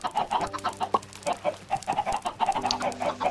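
Chickens cluck and squawk repeatedly in Minecraft, a dense, close flock of overlapping calls with steady rhythmic bursts and no talking.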